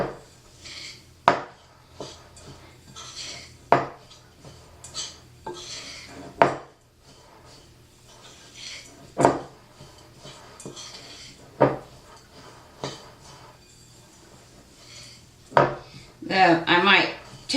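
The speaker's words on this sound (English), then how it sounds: "So we begin to stir that all together." A spoon stirs a New Year's dessert mixture in a bowl, giving irregular clinks and scrapes against the bowl with quiet gaps between strokes, close and fairly clear, with no talking.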